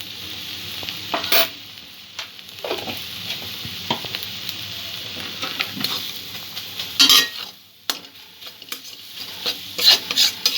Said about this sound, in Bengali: ভালো করে সব উপকরণগুলো ভাজা করে নেব।